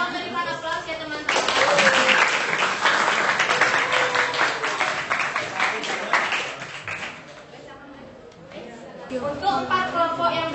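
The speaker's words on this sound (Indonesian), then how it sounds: "Tolong berikan aplaus ya teman-teman." Classroom of students applauding during a cooperative learning game, with dense clapping and chatter that swells, fades, then picks up again, with voices mixed in throughout.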